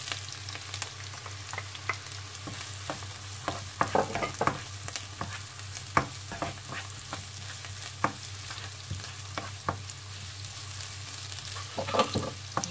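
Rice with ham and carrots is stir-fried in a pan: a continuous sizzle near the mic, broken by repeated sharp clicks and scrapes of a utensil stirring against the pan, with no voices.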